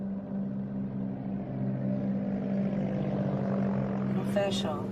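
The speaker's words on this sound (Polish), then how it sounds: "Nagle nadlatuje samolot rozpylający żółty preparat nad polem soi." Crop-spraying airplane passes low over a soybean field, its engine drone steady and fairly near throughout, with people talking over it.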